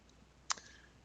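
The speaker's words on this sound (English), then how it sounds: "by right-clicking on the Start menu icon" A single sharp computer mouse click, brief and fairly close, followed by a faint second tick, heard alone in an otherwise quiet room during Windows Start menu navigation.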